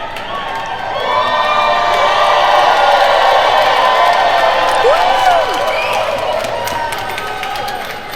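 A large crowd cheers and shouts through a played video clip, a sustained roar of voices swelling in and holding steady with a few whoops rising above it.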